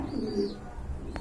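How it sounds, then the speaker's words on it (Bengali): Rajgolla pigeons coo softly at a seller's stall, a low short coo close by with a faint chirp and a brief click near the end. "আরেক জোড়া রাজগোল্লা কবুতর দেখতে পাচ্ছেন"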